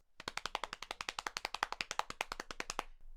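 Rapid, even run of about two dozen sharp taps, like fingers drumming a surface to mimic a drum roll, then it stops abruptly.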